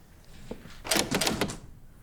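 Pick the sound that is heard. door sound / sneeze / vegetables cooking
door sound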